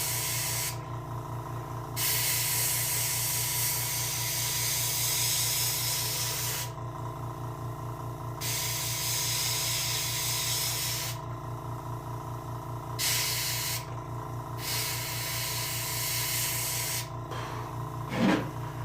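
An airbrush spraying paint onto a salmon model, a steady close hiss in long bursts broken by short pauses, with a faint rubbing sound near the end.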